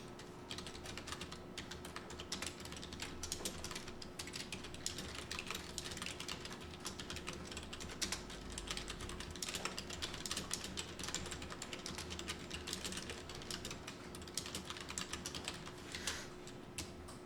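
A steady stream of key clicks as someone types the body of an email on a computer keyboard, with a faint hum underneath. The taps are quiet and close, and there is no talk.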